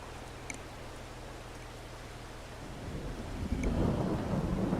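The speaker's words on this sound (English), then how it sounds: "thunder." Thunder in the farming video game Farming Simulator 22 starts as a low rumble and swells into a loud, broad roll near the end, with steady rain noise behind it.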